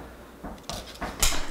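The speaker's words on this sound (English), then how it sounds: "My daughter's knocking." Someone knocks on a household door indoors, making four irregular, moderately loud thuds over quiet room tone.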